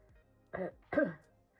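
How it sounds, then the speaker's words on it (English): Two short, hoarse coughs close by, a brief pause between them, with quiet around them. "Excuse me if I'm coughing a bit."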